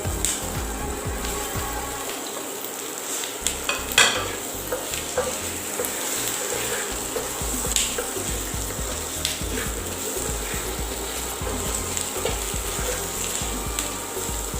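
Potatoes frying in a hot pan with Kashmiri chilli, a steady sizzle running throughout with intermittent scraping and stirring clatter of a spatula against the pan, no voices.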